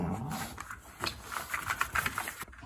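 Two overweight pet dogs sitting close indoors, one giving low growls and breathy panting in short irregular bursts, fairly near and quiet, with no talk over it.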